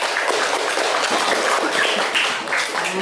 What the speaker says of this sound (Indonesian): Tepuk tangan dulu untuk anak-anak kita